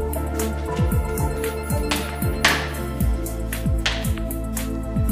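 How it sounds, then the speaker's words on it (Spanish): A little water poured onto cooking oil in a simple kitchen science demonstration, heard as a run of soft, close drips and splashes landing at a steady, irregular rhythm, alone without talk. "Yo le voy a echar un poquito de agua."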